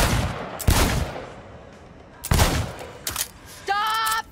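Gunshots at a shooting range during a timed stadium side mission in Cyberpunk 2077: two loud separate blasts, then smaller bangs and a short electronic tone.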